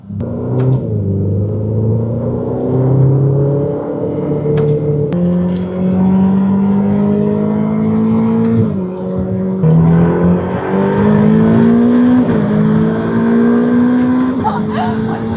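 A Ferrari F8 Tribute engine revs and accelerates hard in race mode with manual shifting through several gear changes, rising pitch repeatedly climbing then dropping, loud from inside the car.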